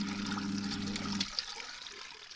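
A small mechanical 6 kg washing machine with a simple switch and no electronics, churning water in one direction: a steady motor hum with sloshing water that stops abruptly halfway, leaving only a trickling splash.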